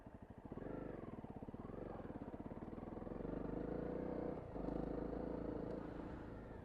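Honda CRF250L motorcycle engine running steadily at Hartford Hills, a close, continuous throbbing drone that rises in pitch as it revs up, dips briefly near the end and then pulls hard again.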